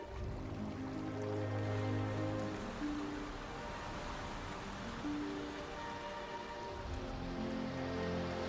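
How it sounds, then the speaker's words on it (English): Heavy tropical rain pours steadily, a dense continuous hiss of drops drumming on surfaces with no break. "There is a tropical downpour here almost every day of the year."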